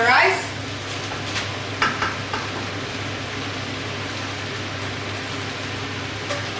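Nigerian fried rice stirred in a pan, a steady soft scraping and shuffling with a low sizzle underneath, a few louder clinks of the spoon against the pan near the start and around two seconds in.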